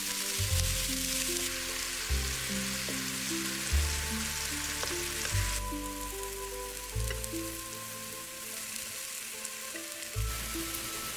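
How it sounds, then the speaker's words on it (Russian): Chicken fillet fries in a little olive oil with a continuous, close sizzling crackle over a steady low musical backing, with no speech. "Обжариваем в небольшом количестве оливкового масла с 2 сторон до золотистой корочки."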